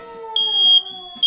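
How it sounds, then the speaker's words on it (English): A loud, piercing smoke alarm beep sounds close by in a kitchen over an overcooked burger, a shrill steady tone cutting over a fainter humming note. "The smoke alarm might as well be my new theme song."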